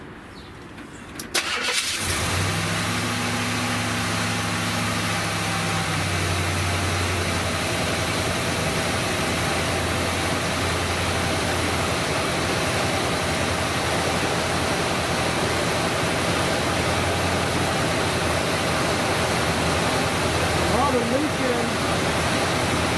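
A 1970 Buick Wildcat V8 fitted with a new Quadrajet carburetor cranks briefly, fires and settles into a loud, steady idle close by, a rough rumble that runs unbroken for about twenty seconds.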